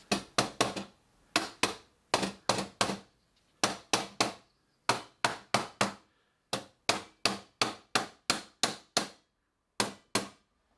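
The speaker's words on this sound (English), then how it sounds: "rubber hammer" Repeated sharp taps from a rubber mallet on a BMW R1200GS motorcycle part during a rebuild come in quick bursts of two to four strikes, close and fairly dull, with brief pauses between groups.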